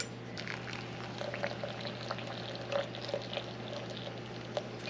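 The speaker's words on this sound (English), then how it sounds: "we're just going to pour it out of this hose I have" Blueberry juice runs from a hose into a container while canning homemade blueberry jelly, a faint steady trickle with small splashy pops and a soft continuous hum underneath, no talking.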